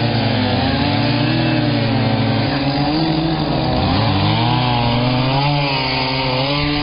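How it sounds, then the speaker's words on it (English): A loud chainsaw engine drones close by, its pitch rising and falling as it bites through river ice, running continuously throughout. "They're cutting the ice with a chainsaw."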